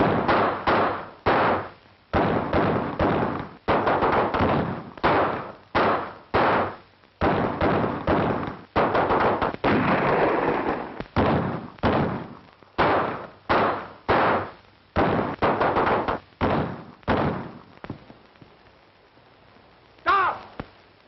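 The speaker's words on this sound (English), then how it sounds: "Stop firing!" Gunfire in a 1930s western shootout: a long volley of sharp reports, fast and irregular, some in quick bursts, echoing close, then easing off toward the end.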